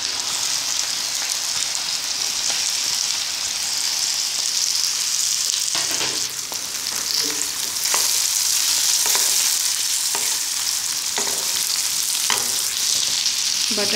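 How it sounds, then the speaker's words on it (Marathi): Potatoes tossed with turmeric fry in a pan for Goan hotel-style batata sukhi bhaji, giving a steady, close sizzle with a run of scraping stir strokes in the second half and no talking. "बटाटे जरा परतून घेते"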